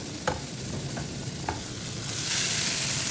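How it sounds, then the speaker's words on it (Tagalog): Sautéed anchovies (dilis) and aromatics are tipped into boiling mung beans for ginisang munggo with bitter melon leaves, giving a few light clicks of a utensil followed by a rising, steady hiss and sizzle, close and without talking. "Transfer lang natin sa ating kumukulong munggo."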